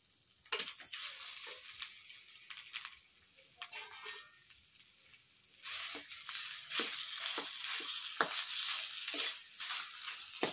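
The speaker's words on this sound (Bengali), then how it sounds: "সিদ্ধ আলুটা মেখে রেখেছি দিয়ে দিচ্ছি কড়াইয়ে।" Mashed boiled potato tipped into a hot oily wok with asafoetida, giving a soft, steady sizzle with intermittent crackles and stirring scrapes, close and moderate in level, no talking.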